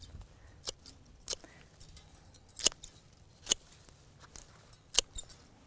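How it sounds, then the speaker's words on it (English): Scissors snip horseradish greens off the root, about an inch above it, in a garden: several sharp, separate cuts spaced a second or so apart, close and crisp against a quiet background. "Just snip off the green part about 1 inch from the root."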